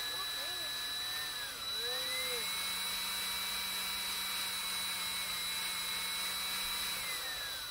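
A powered honey extraction pump on a Flow hive runs fast with a steady, loud mechanical whine and hum. Its pitch bends up and down briefly as it speeds up, then holds constant.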